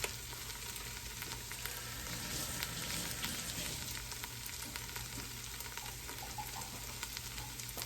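Ox tails browning in a pan over medium heat give off a steady, even sizzle, close but fairly quiet, unbroken and with no voices.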